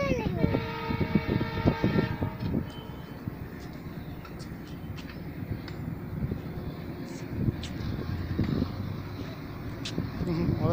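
A train pulling in, with a loud rumbling rail roar and a short horn-like tonal burst near the start, building and steady throughout while people talk over it.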